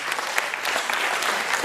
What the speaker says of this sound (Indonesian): Istri-istri ya, tepuk tangan dong semuanya.